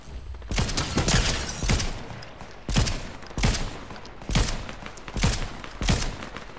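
Bursts of gunfire in a video game firefight, several loud cracking volleys spaced about a second apart with thuds and a busy background between them.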